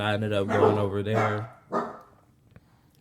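Dogs in a home barking behind someone speaking, loud over his voice at first and then a couple of shorter barks as the talk pauses.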